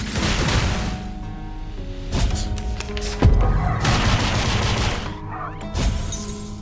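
Barrage attack effect from the video game Reverse 1999, a dense burst of rapid firing, booms and crashing impacts with whooshes, loud and layered over game music throughout.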